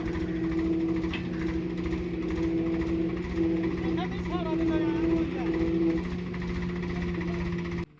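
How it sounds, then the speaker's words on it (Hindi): A Swaraj tractor's diesel engine drones steadily and loudly while straining to pull another stuck tractor free with a chain, a constant low hum with brief rises, under faint background voices. "अभी दूसरा ट्रैक्टर आया है, एक स्वराज, उसमें चेन फंसा के ये निकाल रहे हैं"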